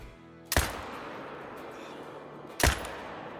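Two sharp rifle shots fired at a buck in the hunting game Call of the Wild, spaced about two seconds apart, loud and close, each with a short rumbling tail over quiet background.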